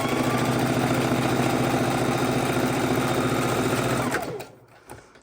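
A sewing machine runs steadily for about four seconds, stitching a quarter-inch seam on fabric for a pocket tissue holder, with a dense mechanical whir throughout, then stops abruptly, leaving only faint handling noise.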